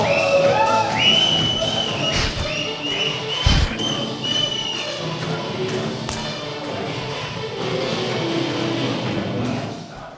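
An audience at a book-publishing seminar cheers, shouts and whistles, with sharp whistle tones early on over a steady, lively crowd din and a few thumps.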